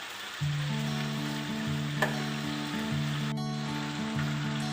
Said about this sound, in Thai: มันเริ่มเดือดแล้วนะครับ เราก็จะคนไปเรื่อยๆเพื่อ ให้ตัวหมูของเรา ได้สุกทั่วถึงนะครับ